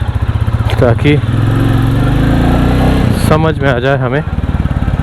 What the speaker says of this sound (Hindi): देखिए पूरी कोरी मोटरसाइकिल है बुलेट 350 नई वाली।